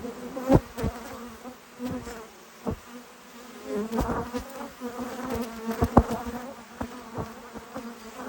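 Honeybees buzz close by at a hive, a dense droning hum with individual bees flitting past in louder swells and sharp ticks, no talk.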